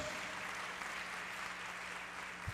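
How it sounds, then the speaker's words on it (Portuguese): Steady applause from a church congregation during an evening worship service, a continuous wash of clapping held at an even level throughout, with a faint low hum underneath. "Vamos aplaudir a Deus."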